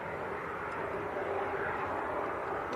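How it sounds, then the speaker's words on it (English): KLM airliner on approach to Leeds Bradford Airport, its engines a faint, steady, distant roar that holds evenly throughout with no voices. "this KLM should be popping into view in a matter of seconds"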